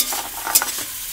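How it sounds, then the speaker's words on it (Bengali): Capsicum and chillies fry in a pan while being stirred, a close, steady sizzle broken by brief scraping stir strokes, with no voices. "ক্যাপসিকাম লঙ্কা সব দিয়ে দিলাম, দিয়ে ভাজা হচ্ছে, একটু কষে নেওয়া হবে।"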